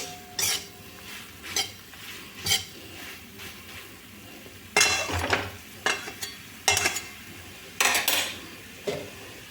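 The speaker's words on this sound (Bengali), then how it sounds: "হলুদ দিয়ে আরেকটু নেড়ে চেড়ে নিই চেপে চেপে নাড়তে হবে" A spoon stirring and pressing tomato chutney with turmeric in a metal pan, with repeated scraping clinks in an uneven rhythm over a faint sizzle.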